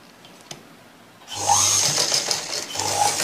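An electric sewing machine stitches the front part of a blouse in two short, close runs of rapid mechanical whirring, separated by a brief pause, after a quiet start with a faint click.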